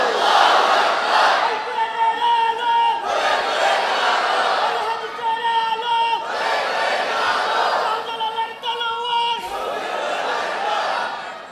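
A large crowd at a Bangladeshi religious gathering roars takbir (Allahu Akbar) in loud unison, four long swelling shouts separated by brief pauses, close and forceful.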